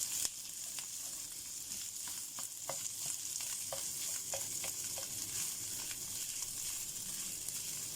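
Leftover cooked rice frying in a pan, a continuous close sizzle broken by a series of sharp utensil taps and scrapes as it is stirred, with no talking.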